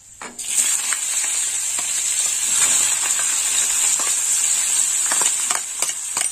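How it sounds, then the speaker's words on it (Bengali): Dried red chillies and whole garam masala spices crackle in hot oil, a loud steady sizzle with scattered sharp pops and stirring clicks, close up. "ফোড়নে নিয়েছি 2টো শুকনো লঙ্কা, আর দিয়ে দেবো গোটা গরম মশলা"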